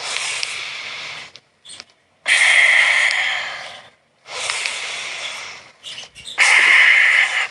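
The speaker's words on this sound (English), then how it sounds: "exhale." Breathing exercise for lung health: long, forceful breaths pushed through close to the microphone, three airy rushes separated by short pauses, loud and alone.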